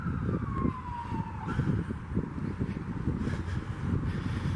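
A distant siren in Tampa, Florida wails and falls in pitch over steady traffic rumble, sounding from a few blocks away.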